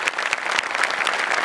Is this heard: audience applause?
yes